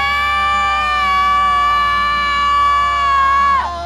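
People let out a loud, sustained scream together, holding one high, steady tone for several seconds before it breaks off abruptly at the end.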